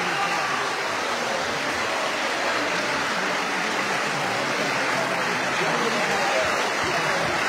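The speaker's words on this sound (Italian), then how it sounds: "Beh, Giorgetti che applaude." Sustained applause fills the Italian Chamber of Deputies as deputies, Giorgetti among them, clap. It is a dense, even wash of hands that holds steady throughout.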